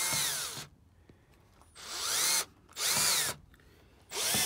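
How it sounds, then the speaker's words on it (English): A power drill drives a screw into a plug in a brick wall, whirring in three or four loud, separate bursts with short quiet pauses between them. "put pressure on the drill so it actually screws in."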